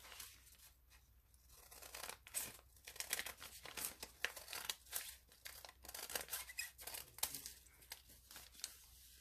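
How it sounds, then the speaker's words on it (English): Full-size scissors trim around the edges of paper ephemera, making close, continuous crinkling and snipping with irregular bursts of paper rustle, quiet overall and without talk. "So just trim around the edges the best that you can"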